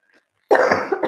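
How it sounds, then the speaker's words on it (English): One single loud, close cough bursts out after a moment of near silence, followed by a brief second catch of breath. "Here's my cough."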